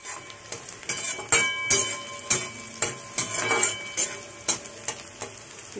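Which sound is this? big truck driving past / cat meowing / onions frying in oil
onions frying in oil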